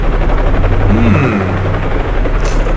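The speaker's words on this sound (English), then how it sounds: "What? Helicopter?" A helicopter approaches in the survival horror game Resident Evil Survivor, its steady loud rotor drone filling the whole stretch with a rising whine passing over the top.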